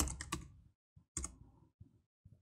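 Bursts of keystrokes on a computer keyboard as a username is entered during a terminal setup, a quick cluster of clicks followed by a few separated taps, close and clear with no talking.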